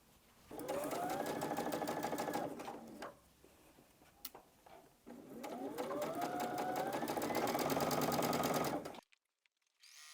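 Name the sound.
sewing machine stitching quilt block pieces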